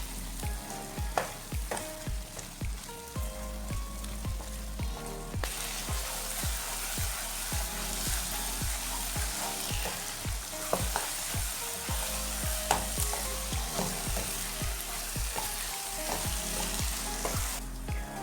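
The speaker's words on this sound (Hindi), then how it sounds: "इसको 1 मिनट तक ऐसे ही भून लेंगे।" Potato and pea curry fries in a pan, a continuous close sizzle broken by regular scraping and clanking strokes of a spoon stirring the vegetables against the metal.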